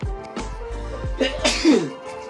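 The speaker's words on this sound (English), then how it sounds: "I'm gonna sneeze." A single sharp sneeze bursts out after a couple of quick breathy inhales, close and loud, with no talking.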